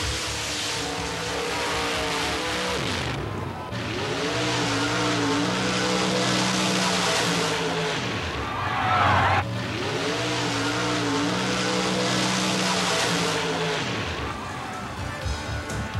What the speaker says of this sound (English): This black Corvette funny car was built from the ground up